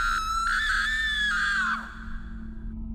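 A woman screams in a horror story sound effect, a single loud, shrill, sustained cry lasting nearly two seconds before it cuts off into a low background hum.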